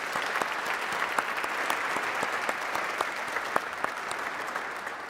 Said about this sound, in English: can I get a round of applause to Cadet Greenfield for that amazing rendition?